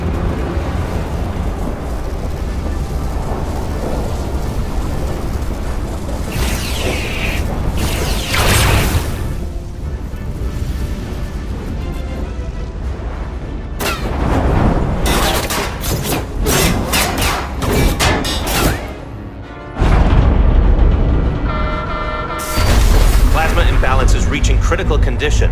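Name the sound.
explosion of a docking clamp in the video game Star Trek Resurgence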